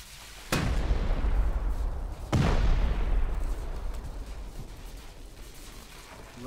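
Two sharp, heavy explosions about two seconds apart during a base raid in the video game Rust, each followed by a long rumbling decay.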